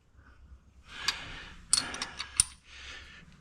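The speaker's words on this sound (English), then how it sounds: "I actually got a short, stubby wrench to finish the tightening." A short stubby wrench tightens a bolt on a cast aluminum part of a 1974 Pontiac, making a few close, sharp metallic clicks and ratcheting bursts in an otherwise quiet space.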